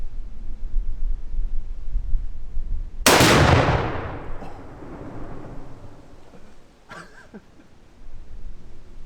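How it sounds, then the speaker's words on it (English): An AR-15 chambered in .223 fires a single PMC 55 grain round outdoors, a loud sharp crack that rolls off into a long echoing decay, with a couple of faint clicks afterward and no talking. "we're shooting some PMC 55 grain"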